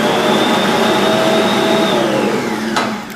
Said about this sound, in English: The next step is to add the sugar and blend it together.